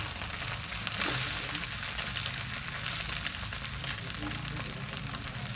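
Vegetable fried rice stir-fried in a pan, with a steady, broadband sizzle of frying running throughout, fairly close and even in level, with no clear talk over it.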